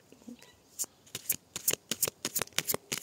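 Oversized tarot cards are shuffled by hand, producing a close series of sharp, papery flicks and slaps in a quick, uneven rhythm.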